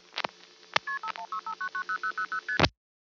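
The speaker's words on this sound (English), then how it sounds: "NX1 is the name of a wonderful, fun crossbar-type switch that makes noises like this" Crossbar telephone switch of the NX1 type at Warwick, New York, 1975, producing a burst of clicks followed by a string of about a dozen short, evenly spaced two-tone pulses over a line hum, closing with another burst of switching noise.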